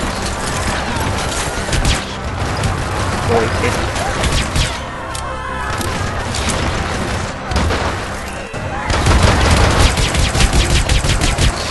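Dense, loud gunfire fills a Hitman: Absolution stealth shooter scene, with rapid automatic bursts and heavy booms running almost without pause, and a player's voice mixed in underneath.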